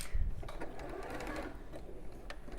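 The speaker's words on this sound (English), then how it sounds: "we'll sew this into position" A sewing machine stitches binding onto a raw edge in a steady, even whir at close range, running without pause.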